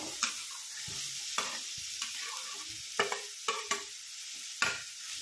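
Pumpkin pieces hit a pan of fried green chillies with a steady sizzle, while a spoon scrapes and stirs in several sharp, irregular strokes throughout.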